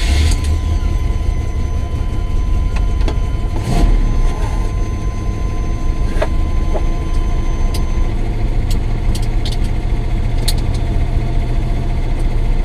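A 1980 Chevrolet Corvette's engine runs steadily at close range as driving gets underway on a cold day around 25 degrees, a continuous low rumble with a few brief clicks and knocks on top and no voices.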